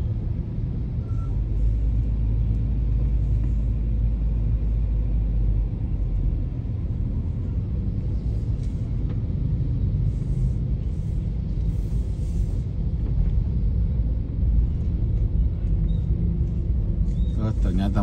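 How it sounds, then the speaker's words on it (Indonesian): Congested street traffic in Makassar during the Eid al-Fitr holiday: a constant low rumble of idling and creeping vehicles, steady and close, with a person talking over it throughout. "Oh, di sini ada kemacetan."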